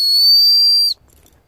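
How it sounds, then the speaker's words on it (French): A single loud, sustained high whistle to call cats, held steady for about a second, then cut off abruptly into near silence. "c'est l'occasion pour les siffler encore."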